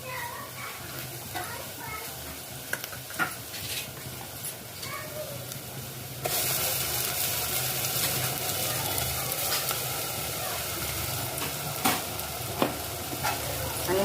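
Ground masala paste frying in oil with reddened onions for a pomfret thali, stirred steadily with a utensil, giving a continuous close sizzle that grows louder partway through, with occasional scrapes.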